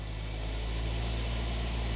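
Engine of a 1972 Plymouth Cricket running steadily at idle, a close, even low hum with a constant droning tone throughout.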